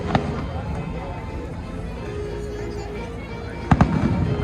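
Fireworks burst over Downtown Disney: two sharp, loud cracks, one near the start and a closer pair near the end, ring out over crowd noise and people talking.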